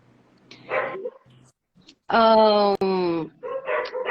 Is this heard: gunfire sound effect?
no